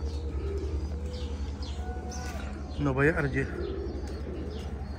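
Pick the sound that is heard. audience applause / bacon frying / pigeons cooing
pigeons cooing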